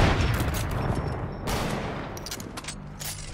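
Rapid gunfire fills a multiplayer video game, with dense overlapping shots and bursts rattling loudly and continuously from start to finish.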